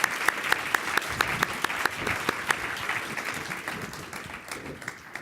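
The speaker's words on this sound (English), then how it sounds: "how about a nice round of applause for their efforts?" Studio audience applauding chefs at a cooking competition, a steady wash of clapping with sharp individual claps standing out, fading gradually toward the end.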